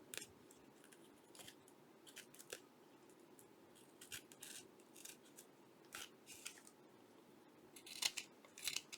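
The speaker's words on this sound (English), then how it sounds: "Scissors are a little bit dull for this job," Dull scissors snip and rustle through paper while a feminine journal is being made, a series of close, quiet irregular cutting strokes with no talk.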